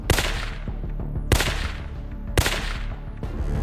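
Three loud, sharp gunshots crack out about a second apart, each with a short echoing tail, in a recreation of the John F. Kennedy assassination in Dealey Plaza.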